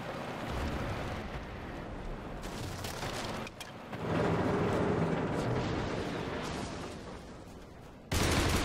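Sustained gunfire and explosive blasts from the video game Hour of Victory, aimed at a tank, rolling on continuously at high volume, dipping briefly before a loud burst near the end.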